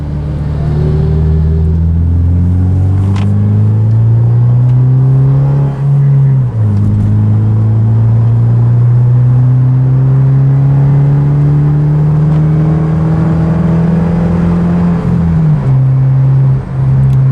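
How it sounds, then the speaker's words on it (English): A Subaru Impreza with an EJ25 engine and Magnaflow exhaust revs loudly up close, the engine note climbing, holding high, dipping briefly and rising again with a smooth, muted tone. "Magnaflow does have kind of a, I guess you would call it kind of muted, or like a squishy sound to it, where like it's not real raspy"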